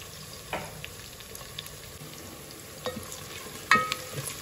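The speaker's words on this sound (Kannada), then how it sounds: "ಈರುಳ್ಳಿ ಫ್ರೈ ಆಗಲಿ" Onions frying in a pan for a vegetable dum biryani, a soft steady sizzle with occasional clinks and stirring scrapes, fairly quiet and with no voices.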